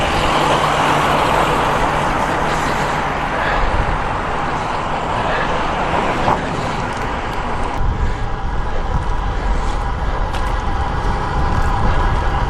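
Cars approach from behind and pass a road cyclist riding along a road, a continuous roar of traffic and tyre noise mixed with wind rush, loud and steady throughout.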